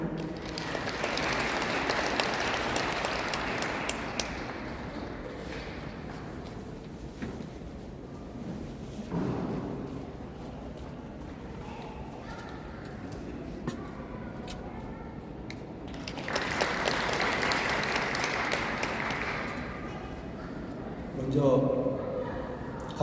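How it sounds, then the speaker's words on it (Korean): Audience applause at a memorial gathering at Muan International Airport, two loud bursts of clapping separated by a quieter stretch with talk, filling the space around the stage. "박수 부탁드립니다."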